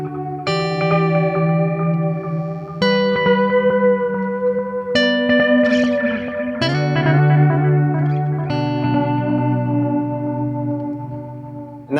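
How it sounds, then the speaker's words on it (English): Guitar notes repeat through an EarthQuaker Devices dual delay pedal, echoes bouncing in an offbeat, syncopated pattern with shimmering, reverberant tails. "if we introduce delay B, we can get these cool syncopated dual delays"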